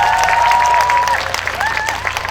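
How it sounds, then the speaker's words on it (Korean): Concert audience applause at an outdoor heritage concert with a city symphony orchestra, dense crowd clapping under a sustained tone and a brief voice, fairly loud. "박수 한번 크게 부탁드리겠습니다."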